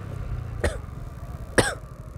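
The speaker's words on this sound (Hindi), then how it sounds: "भाई खांसी आ गई।" Two short, sharp coughs sound close by, spaced about a second apart, over a low steady rumble of an idling vehicle near a tractor-mounted water pump on a road.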